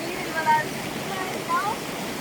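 Water pours steadily at Jog Falls as a constant broad rushing roar, with faint voices rising briefly above it.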